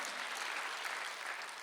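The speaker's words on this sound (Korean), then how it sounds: "박수 하나 되세요." A church congregation claps steadily through a Korean Sunday worship service, producing a dense, even wash of applause from many hands, with no voices rising above it.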